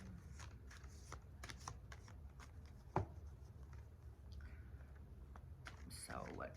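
Tarot cards are shuffled and dealt by hand, soft quick riffling clicks and slides close by in a loose irregular rhythm, with a single sharper tap partway through and a quiet voice speaking.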